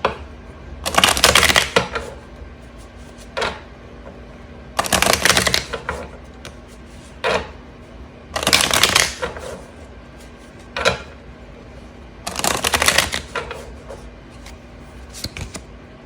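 Tarot cards are shuffled and laid down in four separate bursts of crisp riffling and flapping, close and clear, with quieter taps and card placements in the pauses between.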